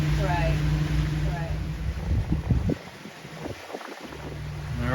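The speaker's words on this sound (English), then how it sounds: "Boat ran great." A motorboat engine drones steadily up close on a Cape Coral canal, with wind buffeting the microphone, and a voice speaks over it briefly midway.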